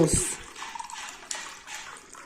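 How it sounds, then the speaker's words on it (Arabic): A brief clatter, then water pours steadily into a cup nearby, a soft continuous splashing trickle. "احط كوباية ونص مية"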